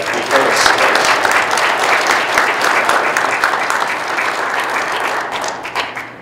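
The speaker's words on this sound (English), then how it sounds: "would you applaud for the person who's going to deliver the illustration?" A church congregation applauding together, loud sustained clapping that fills the room and slowly thins toward the end.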